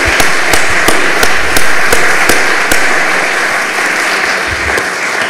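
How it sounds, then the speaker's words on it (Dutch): A lecture hall audience gives a round of applause for an absent award winner at an academic prize lecture, with dense, loud clapping that carries steady rhythmic accents before gradually thinning out. "Dus ik denk dat wij even kunnen klappen voor haar."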